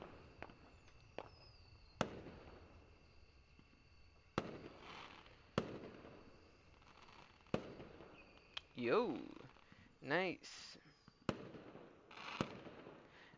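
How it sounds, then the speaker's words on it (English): Video game fireworks go off one after another as rockets climb with rising whistles and burst in sharp cracks. The bangs are spaced irregularly and grow more frequent, and a person speaks briefly over them. "the sound of the first rocket ascending, its explosion painting a circular pattern in the sky"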